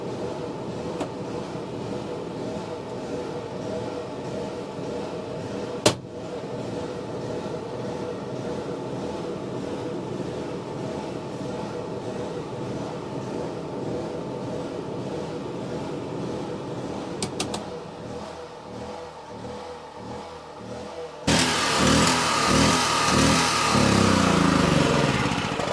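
A generator for a truck camper, running and straining under load as the air conditioner comes on: a steady, loud droning hum that holds for most of the stretch, dips briefly, then jumps to a harsher, louder roar near the end.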